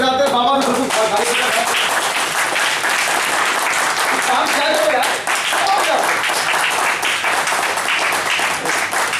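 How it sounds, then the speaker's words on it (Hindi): An audience applauds at a talk-show-style conversation event, the clapping loud and steady throughout, with a voice speaking briefly over it near the start. "तालियां इतनी कमजोर बजाते हैं"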